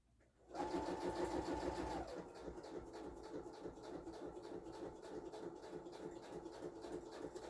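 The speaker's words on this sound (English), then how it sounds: "I'll quick sew that up." A sewing machine stitches paper envelopes into a multi-pocket; it starts abruptly with a higher whine, then settles into a steady, fast rhythmic clatter, close and continuous, with no voices.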